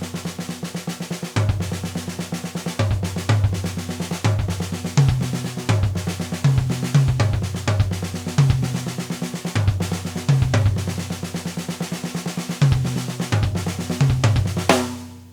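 Full drum kit playing a rudimental solo at a slowed tempo, with steady snare rolls and accents and a bass drum thump placed just after each accent, loud and close throughout.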